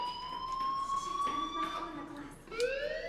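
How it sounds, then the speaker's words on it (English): An alarm in the video game Life Is Strange sounds as a steady, piercing electronic tone with long sustained harmonics, and it dips and rises in pitch near the end. "do you hear that fire alarm?"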